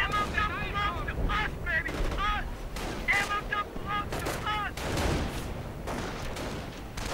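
Gunfire and artillery from a strategy video game battle crackle in rapid, uneven bursts with heavier thuds mixed in, while a commentator talks over the action throughout.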